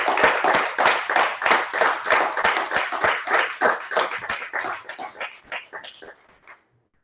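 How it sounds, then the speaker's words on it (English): An audience applauds after a performer's set, a dense burst of clapping hands that starts strong, then thins out and fades into silence near the end. "Another round of applause."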